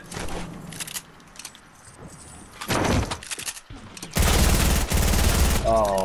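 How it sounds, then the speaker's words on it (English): Video game gunfire comes in loud, rapid bursts separated by short gaps, with a brief voice near the end. "I need to hurry up and shoot this gun"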